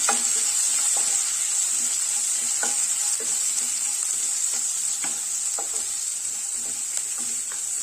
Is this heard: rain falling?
no